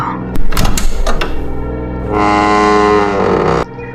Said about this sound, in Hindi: अमन ने दरवाज़ा खोला।